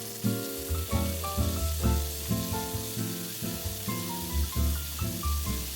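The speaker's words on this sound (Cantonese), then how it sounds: "放翻雞扒落去" Chicken steak sizzling in oil in a lidded wok for teriyaki chicken, a loud close fry with steady hiss, under a tonal musical backing that plays throughout, no speech.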